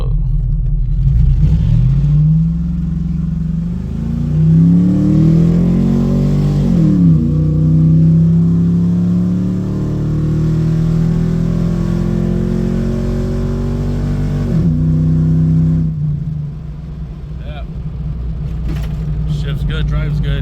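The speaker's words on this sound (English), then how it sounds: "Trying to check my truck out." A 2005 GMC Sierra pickup truck engine revs hard while driving, loud and close, climbing through repeated acceleration sweeps and easing off, with someone talking over the steady engine drone.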